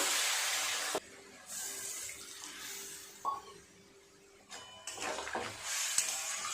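Water poured into a pan of spiced crab curry, a soft splashing pour starting and stopping in short bursts with a few faint clinks, quiet and close.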